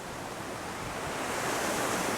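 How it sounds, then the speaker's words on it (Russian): Steady broadband rush of flowing water at the Dan spring in Galilee, a continuous full-bodied wash that swells slightly louder toward the end, with no voices. "шум воды"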